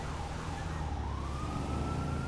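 Emergency sirens wail continuously in a police video game, a steady rising and falling siren tone over a dense rumble of traffic, moderately loud and without any talking.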